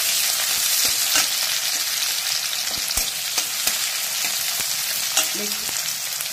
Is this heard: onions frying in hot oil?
yes